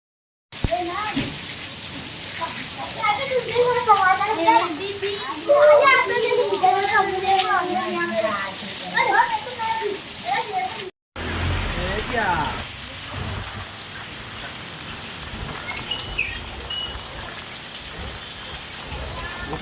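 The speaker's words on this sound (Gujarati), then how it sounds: "ધોધમાર વરસાદના કારણે રોડ રસ્તા થયા પાણી" Heavy rain pours onto waterlogged roads in a steady, loud hiss. A voice talks over the first half, then a brief cut leads to unbroken downpour.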